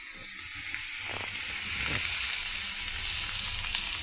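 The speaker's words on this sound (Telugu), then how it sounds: "ప్యాన్లో ఆయిల్ వేసామండి." Oil heating in a frying pan before brinjal pieces, curry leaves and lentils go in, giving a constant close hiss and sizzle with a few faint clicks.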